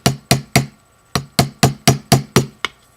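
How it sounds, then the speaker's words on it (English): A hammer strikes the top of a Lush Supernova bath bomb in a steady series of about ten sharp, close taps, each a crisp impact with a short ringing decay, with a brief pause partway through. "I'm going to take my hammer and hit the top"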